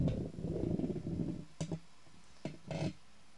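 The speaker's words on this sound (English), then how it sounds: "Let me just move this microphone here closer to me" Low rumbling handling noise, then a few close knocks and a short scrape as a microphone is moved around; no talking.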